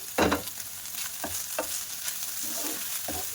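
Chopped chicken with ginger-garlic paste frying in a pan, a constant sizzle broken by several loud spatula scrapes and clanks as it is stirred, close and without speech.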